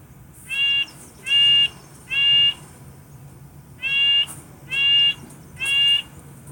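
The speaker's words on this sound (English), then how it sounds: "this is the recording of a bird chirping" Six short, bright bird calls come in evenly spaced pairs and triplets, loud and close, each a harsh buzzy note over a quiet low hum.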